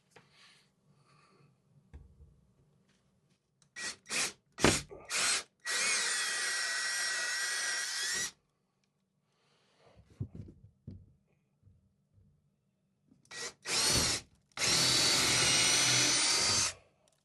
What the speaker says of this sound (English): Then we'll go ahead and drill that.